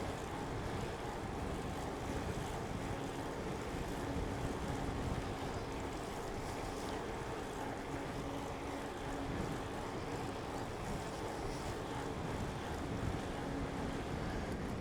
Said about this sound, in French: Ah, le vent, putain.